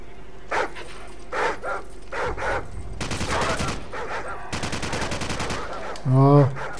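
Dogs barking and bursts of gunfire from the military shooter game Call of Duty 4: Modern Warfare, with rapid automatic shots dominating the middle and a loud low bark near the end.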